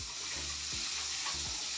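Green chillies sizzle as they go into onions frying in a pan, a steady close hiss with a few soft stirring scrapes and no voices.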